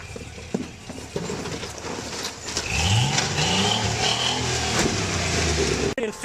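Off-road vehicle engine revving hard while driving, a loud mid-range roar that rises and swells partway through with harmonic sweeps, steady and close with faint voices in the background.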